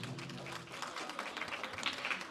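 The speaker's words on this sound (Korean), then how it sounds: "자, 여러분 축하의 박수 다시 한번 크게 부탁드립니다" Quiet applause at a children's policy proposal awards ceremony as students are called up, a soft steady patter of clapping from a hall audience with a faint voice now and then.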